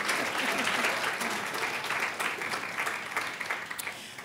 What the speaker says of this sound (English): Yeah, clap for yourselves.